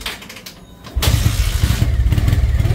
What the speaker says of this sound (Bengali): একদম নতুনের মতো বাইকের সাউন্ড